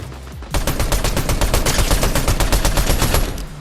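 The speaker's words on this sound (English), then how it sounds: "was she just shooting the bot for no reason?" Rapid bursts of video game gunfire in a solo battle royale match, a loud, dense run of sharp automatic shots that starts after a brief pause and keeps going for about three seconds.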